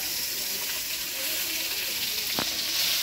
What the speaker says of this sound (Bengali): এই ভোলা মাছ ভেজে রাখা হয়েছে আর এই আবার কড়াতে ভাজা হচ্ছে